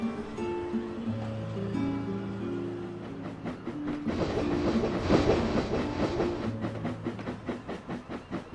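A train shunts goods wagons on a British railway, with a rolling rumble and a faint hiss that build into a rhythmic clickety-clack of wheels and clanking wagons, close and moderately loud.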